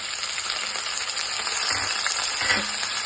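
Onion and tomato fry in a hot pan with a close, steady crackling sizzle and a few soft spoon stirs, continuous throughout with no voices.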